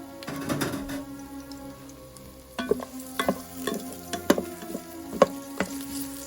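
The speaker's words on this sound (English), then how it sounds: "So let's get that garlic going in there, get that good garlicky flavor moving along." Garlic frying in hot oil in a frying pan on a stove, with a low steady sizzle under irregular clinks and scrapes of a utensil stirring against the pan.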